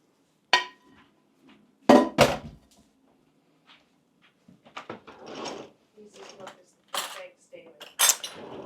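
A utensil scraping browned bits from a frying pan after frying eggs, heard as sharp metallic clanks and scrapes in irregular bursts, some loud and close, separated by quiet gaps.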